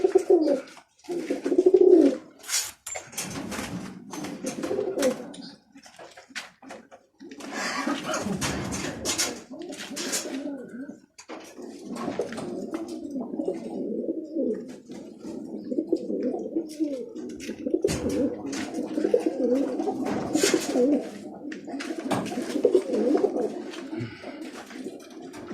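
A roller pigeon coos in low, throaty bursts while held in hand for dyeing, the rolling calls close and recurring across the span amid handling rustles and clicks.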